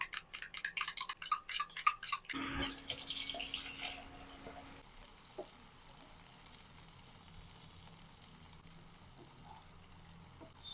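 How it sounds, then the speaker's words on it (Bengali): Okra sizzles in oil in a pan with clinking and scraping at first, a loud pouring splash around two seconds, then a steady softer frying hiss. "এদিকে ঢ্যাঁড়স গুলো আমার ভাজা হয়ে গেছে"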